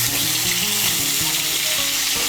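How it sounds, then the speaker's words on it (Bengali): Loud, steady sizzle of peeled, cut pointed gourd pieces frying in hot oil, close up and constant, with faint stirring knocks and no talking. "তুলে নিয়ে এই তেলের মধ্যে আমি পটলগুলো ভেজে নেব"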